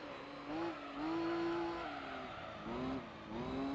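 An all-wheel-drive prize car in Gran Turismo 3 powers out of a hairpin. Its engine revs climb in pitch in a couple of loud surges with brief lifts between them, and no one talks.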